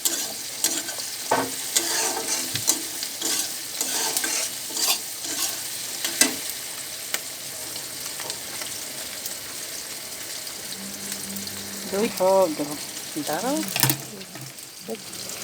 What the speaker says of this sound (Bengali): হালকা গরম করে তেজপাতা, গোটা গরম মশলা দিয়ে একটু নাড়াচাড়া করে তার মধ্যে ক্যাপসিকাম আর টমেটো দিয়েছি